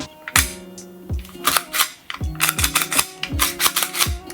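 A WE Tech G18c Gen 4 airsoft pistol slide racked back and forth repeatedly, giving sharp, close metallic clacks with a rough, scratchy grinding between strokes, the pace quickening toward the end.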